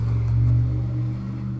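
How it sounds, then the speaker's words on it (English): Road traffic passes loudly outside an open window on a rainy day, a heavy low engine rumble swelling close by and then easing off, with no talk over it. "Loud vehicle, sorry, our window is open and it's raining, so the traffic seems even louder."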